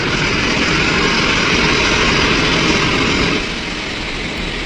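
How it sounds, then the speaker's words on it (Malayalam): A Ryanair airliner approaches with a loud, broad engine roar that holds steady and then eases slightly toward the end, close and dominant with no voices. "ഒരു ഫ്ലൈറ്റ് വരുന്നുണ്ട് റൈനറിലെ."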